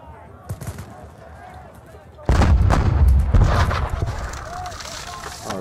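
Cannon blasts from artillery in the Waterloo wargame John Tiller Campaign Waterloo, with a few faint reports followed by a loud, sustained roll of booming fire and distant crackle.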